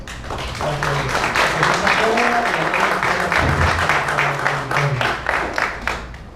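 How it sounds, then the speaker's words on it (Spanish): A conference audience applauds a doctor being introduced for a talk on dyslipidemias, steady applause with a voice audible underneath for much of it. "para la cual les pido un fuerte aplauso."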